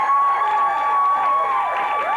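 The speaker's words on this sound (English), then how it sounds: "Round of applause for this, because these are the top people in here," Crowd noise from a TV talk show studio audience, loud and continuous with cheering and whooping voices that rise and fall, likely mixed with applause, over about two seconds.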